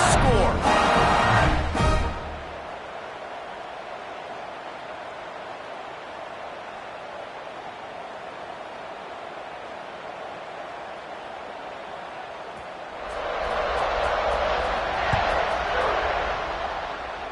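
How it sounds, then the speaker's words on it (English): Stadium crowd noise in a college football video game, Arkansas against Mississippi State: a broad, steady crowd hiss that swells louder near the end after a brief sharper burst at the start. "this crowd is buzzing after that last score"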